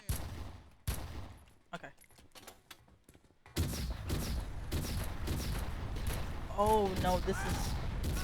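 Video game turret gunfire rattles in dense repeated bursts, close and steady through the second half after a few scattered earlier blasts, with someone speaking briefly over it.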